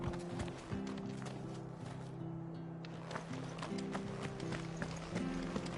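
A horse's hooves clip-clop at a trot, a steady close rhythm running the whole time over a low ambient drone.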